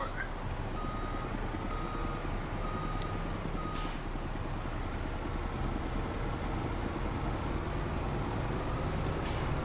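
A truck in Farming Simulator 25 rumbles steadily with its engine running, and a short series of reversing beeps sounds partway through, with a faint hiss near the end.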